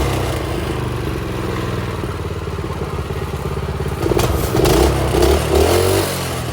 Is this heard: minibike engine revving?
yes